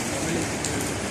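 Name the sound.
heavy rain falling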